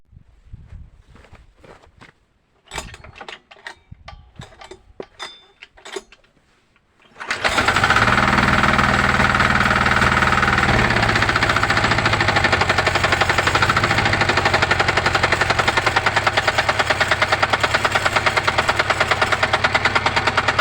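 A motor engine is cranked and catches after a few sharp mechanical clicks and knocks, then settles into a loud, steady, close idle with a rapid pulsing rhythm that runs to the end.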